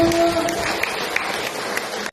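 Applause from a women's community gathering of a BKMT Islamic study council in Moyo Hulu, Sumbawa, a steady wash of clapping held at moderate level for about two seconds, with a brief tonal hum near the start.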